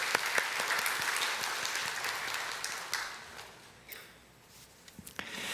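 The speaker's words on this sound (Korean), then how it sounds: "우리 박수로 축하해 주시기 바랍니다." A Sunday church congregation claps to congratulate newly announced volunteers, fairly quiet and somewhat distant, with sharp individual claps standing out before the applause thins and picks up again.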